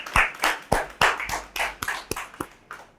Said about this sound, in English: Round of applause for Lifepage.